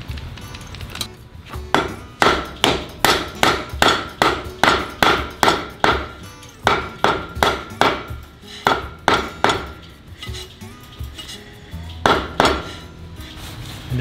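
Metal dust cap hammered onto a trailer brake drum hub, a loud close series of sharp regular blows, about a dozen strikes in quick runs with short pauses between them.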